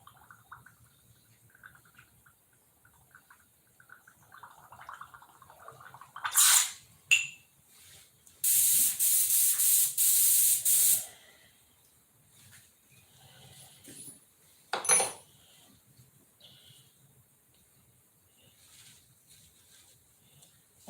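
A spray gun blows thinner with compressed air, giving a few short sharp hissing bursts and one sustained loud blast of about two seconds, set against quiet background noise with faint sounds between them.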